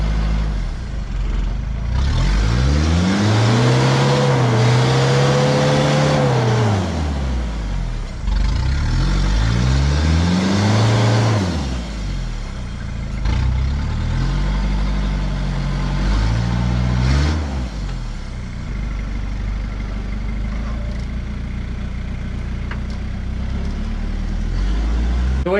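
Car stuck in mud with hot tyres: the engine revs hard in repeated long surges, pitch climbing and falling, tyres spinning loudly, then settling into lower, rougher revving near the end; close and loud with no talk.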